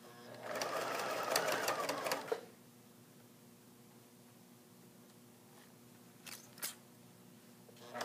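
A sewing machine straight-stitches around a hem in a brisk, close burst of rapid needle clatter for about two seconds, then stops, followed by quiet room tone and a few small clicks.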